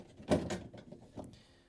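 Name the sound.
Samsung refrigerator door being lifted off its brackets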